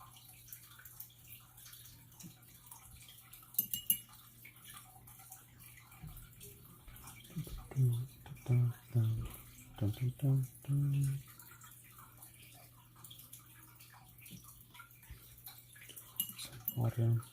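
A watercolor brush is swished and rinsed in a water pot: a short cluster of soft splashy sloshes midway, faint against a quiet room with a low steady hum.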